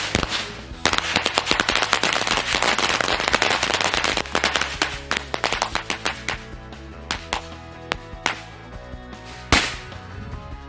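A bundle of match firecrackers going off in a rapid, dense crackling string of sharp bangs, thinning out into scattered pops and a final loud crack near the end.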